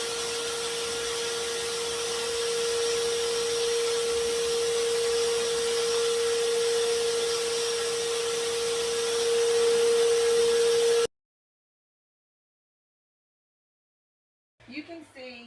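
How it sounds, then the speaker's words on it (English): A vacuum cleaner cleans out a guinea pig cage, a loud steady motor whine with a constant tonal hum that runs for about eleven seconds then cuts off abruptly, followed by silence and a brief burst of speech. "They are used to the vacuum, so it's going to get loud here for a moment"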